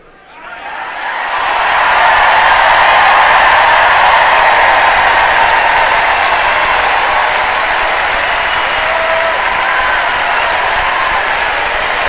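A large audience erupts into thunderous applause that swells within the first two seconds and then holds as a loud, dense, sustained roar of clapping for over ten seconds.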